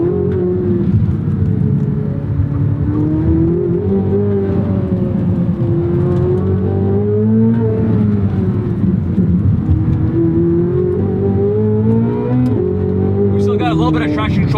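2023 Chevrolet Corvette Z06 with the Z07 package, its naturally aspirated engine roaring loudly on throttle, the pitch rising and falling through gear changes while traction control intervenes, with talk over the engine.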